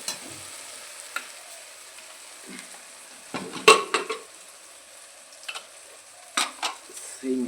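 Mutton frying in hot spiced oil for a quick goat curry, a soft steady sizzle broken by a few clattering stirs of a spoon against the pan, close up and without talk.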